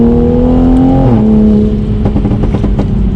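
A tuned, straight-piped Toyota Supra engine pulls at just over half throttle, a loud droning exhaust note that dips in pitch briefly and then builds again, heard from close by.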